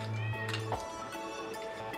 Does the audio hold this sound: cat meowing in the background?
yes